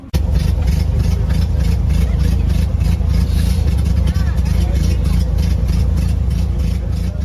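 A 1924 Renault NN torpedo vintage car's engine runs steadily at a classic vehicle show, a loud, close, continuous idle with a regular pulsing throb; a voice speaks briefly over it.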